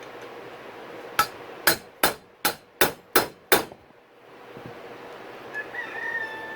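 Seven sharp metallic hammer blows strike a punch against a dirt bike's steering stem bearing in a quick, steady rhythm, close and loud, followed by quiet workshop room tone.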